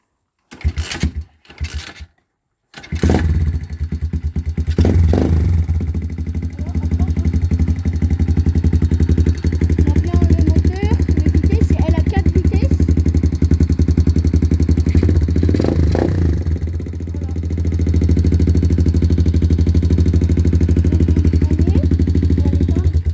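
A motorcycle engine fitted with a kit starts after a few short bursts and then idles steadily and loudly, a continuous close throbbing rumble with no talk.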